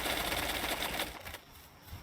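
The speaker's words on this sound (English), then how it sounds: "Scrolling down on the mouse." Rapid ratcheting clicks from a scrolling mouse wheel, close up and steady for about a second, then slowing into a few scattered ticks.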